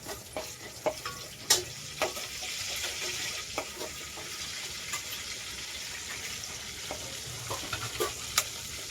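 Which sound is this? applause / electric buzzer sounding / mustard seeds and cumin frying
mustard seeds and cumin frying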